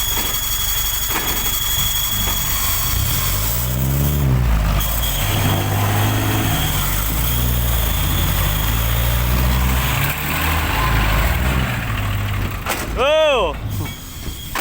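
A heavy tractor engine rumbles steadily throughout as it drives down during land-filling work, with shifting pitch as it works, and a sharp hissing burst near the end.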